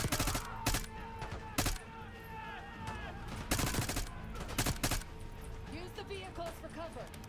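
Repeated bursts of gunfire from a weapon in Call of Duty: Black Ops 6, sharp, loud cracks in uneven clusters over a busy battle backdrop, with voices faintly underneath.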